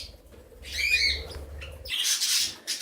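Pet budgie mingling with a mixed home flock that includes a canary, giving bright chirps and harsh squawks in close bursts, with a busier stretch of overlapping calls near the end over a low background hum.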